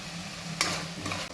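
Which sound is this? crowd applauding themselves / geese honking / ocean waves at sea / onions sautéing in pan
onions sautéing in pan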